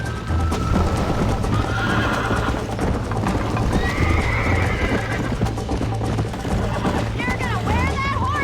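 Hooves pound in a fast gallop while a horse whinnies loudly several times in Red Dead Redemption, with busy game-style background sound and no clear talk.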